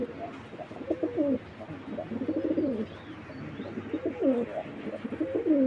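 Racing and show pigeons coo repeatedly in low, throaty rolling phrases, several birds overlapping close by, with faint chirps in the background and no speech.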